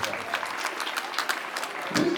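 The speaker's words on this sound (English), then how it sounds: "let us all clap our hands for our dear principal, Father David Samraj." An audience claps for the school principal, Father David Samraj, at an annual sports meet closing ceremony; steady scattered clapping runs through the short clip, with a voice briefly audible near the end.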